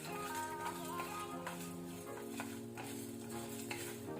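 Masala spices roasting in a pan on a low flame, a faint steady sizzle with light stirring scrapes under a background hum.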